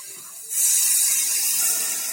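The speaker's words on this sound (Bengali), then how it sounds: "এবার আমি এর মধ্যে দিয়ে দিচ্ছি জল।" Water poured into a hot pan of spices fried with Kashmiri chilli powder for a raw banana and potato curry: a quiet background, then a sudden broad steamy hiss that stays strong and close.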